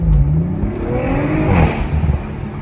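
A 2023 Audi RS5 Competition engine revving hard nearby, a loud continuous roar with rising and falling pitch sweeps lasting a few seconds.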